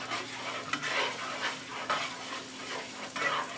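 Garlic and onions sauté in a pan, giving a low, even crackling sizzle with light stirring scrapes throughout.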